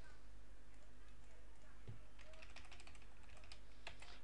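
Light, quick keystrokes on a computer keyboard, faint and fairly close, clustering into a soft run of clicks toward the end over a quiet room hum.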